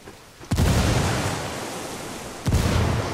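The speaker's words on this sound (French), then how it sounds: "Frag lancé." Two frag grenade blasts go off in the game Ghost Recon Wildlands, each a sudden loud boom about two seconds apart, followed by a broad rumbling wash of debris and noise with no talk.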